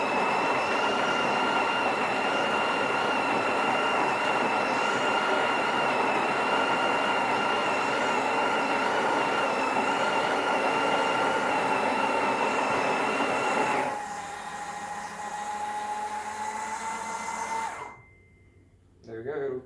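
Built-in coffee grinder of a Breville Oracle Touch espresso machine running in a kitchen, a steady loud whirring grind that shifts lower in pitch near the end before cutting off abruptly.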